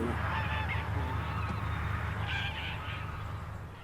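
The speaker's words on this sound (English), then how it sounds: "Presumably these geese are here overnight." A flock of geese honking continuously at moderate distance at Bentwaters Park, overlapping calls forming a noisy chorus that slowly fades.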